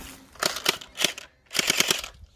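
An airsoft gun fires in bursts, three quick rattling volleys of rapid snapping shots heard up close with brief pauses between them.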